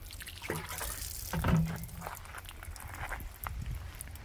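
Water is poured into a container in a displacement demonstration and trickles back out, heard as soft, close splashing and dripping over low background noise.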